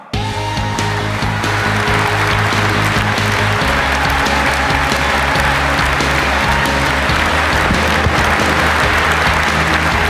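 Audience at a Microsoft Dynamics CRM 2013 premiere event applauding a speaker onto the stage, a dense sustained clapping from a large crowd lasting the whole stretch with music underneath.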